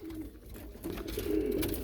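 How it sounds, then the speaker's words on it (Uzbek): Domestic pigeons kept for sale coo softly and continuously against a murmuring background, the low warbling calls swelling slightly toward the end. "Mana kaptarlar."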